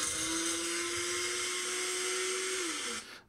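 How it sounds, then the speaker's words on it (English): A grinder reducing an extracted tooth or root into dentin graft particles gives a loud, steady high whine, held close and constant before it winds down and stops near the end. "take the original root or tooth structure and grind it down"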